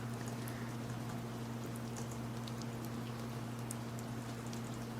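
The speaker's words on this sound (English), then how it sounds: "It's actually been raining where I am." Steady, dense patter of rain falling, a continuous hiss with scattered droplet ticks over a constant low electrical hum; no voices.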